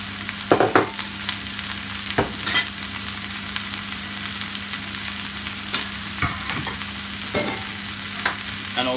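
Coriander and other fresh herbs sizzle and fry in a pan for a Persian lamb ghormeh sabzi, with steady hissing broken by repeated scraping stirs of a utensil, close and fairly loud, with no talk.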